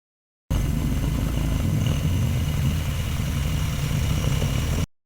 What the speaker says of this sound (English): Rocket.